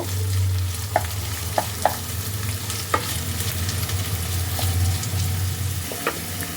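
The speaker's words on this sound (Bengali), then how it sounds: "এবার আমি এর মধ্যে দিয়ে দিচ্ছি হাফ চামচ আদা বাটা এটাকেও ভালো করে ফ্রাই করে নেব" Ginger paste fries with potatoes in a pan, giving a steady sizzle over a low hum, with a handful of light clicks and taps from the utensil spaced through it.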